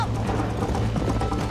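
Hoofbeats of a horse galloping during a race in Red Dead Redemption, a steady rapid clip-clop rhythm at moderate level over a continuous low rumble of ambient game noise.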